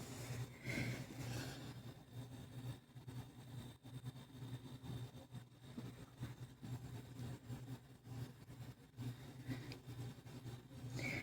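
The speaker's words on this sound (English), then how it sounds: "You can hear the heater, I'm sure." Indoor house heater running, a low steady hum with faint mechanical rumble, fairly quiet and continuous with no talk.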